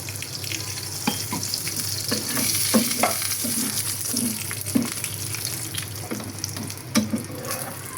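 Paratha frying in oil in a pan, a steady sizzle with intermittent pops and utensil knocks and scrapes, moderately close, with no one talking.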